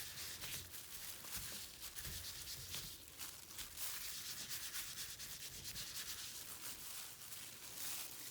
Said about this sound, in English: take your baby wipe and kind of rub over it so it's not so stark brown